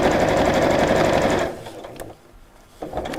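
A sewing machine stitches steadily along fabric folded over piping, a loud rapid mechanical run for about a second and a half before stopping, followed by faint handling sounds and quiet room noise.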